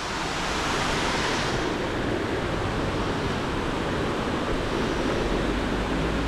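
The La Fortuna River rushing steadily in San Carlos, Alajuela, in the Costa Rican countryside, a dense, broad wash of flowing water that holds constant and loud throughout with no voices.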